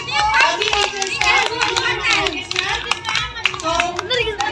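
At a school Children's Day celebration, scattered hand clapping welcomes the teachers, a choppy, uneven patter mixed with lively children's chatter and shouts throughout.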